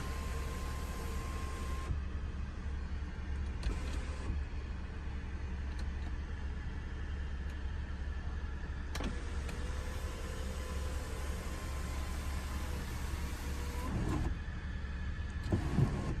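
A power sunroof on a 2015 Ford Explorer Sport slides open with a steady electric motor whir under a low cabin hum, faint and continuous, with a soft click at the start and a thump as it stops.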